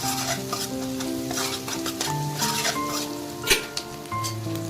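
Chopped capsicum sautéing over a low flame in hot oil for street-style veg hakka noodles, with a continuous close sizzle broken by repeated scraping stirs and clinks of a spatula against the pan.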